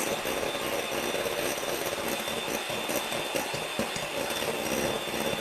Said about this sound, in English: I'm at the moment patiently beating up the sugar into the egg whites.